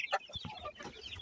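Hens cluck in short, irregular bursts close by, with a sharper squawk near the start and soft scratching movement between calls.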